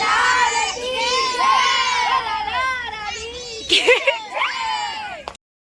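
A large crowd at a train station in Mathura, India, with children shouting and many voices overlapping in a dense, loud, continuous din that rises briefly near the end.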